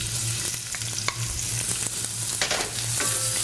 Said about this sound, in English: We're going to fry the onions.